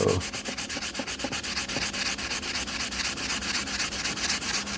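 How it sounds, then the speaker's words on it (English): Fine sandpaper rubs over the body of a vintage Telstar phone in quick, even back-and-forth strokes, a close, steady scratchy rasp repeated many times without pause and with no voices. "So taking a little extra time with some finer sandpaper"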